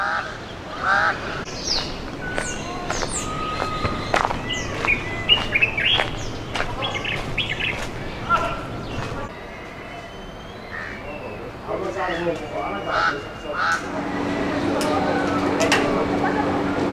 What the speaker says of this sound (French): vous entendez le chant des oiseaux, le bruit des vagues, c'est hyper agréable.